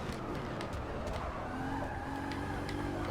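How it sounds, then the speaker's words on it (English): A car drifts in the racing game Forza Motorsport 6 at Brands Hatch, with a steady engine roar and tyre squeal holding for the whole stretch. "Tail is coming out again. I'm just drifting around here."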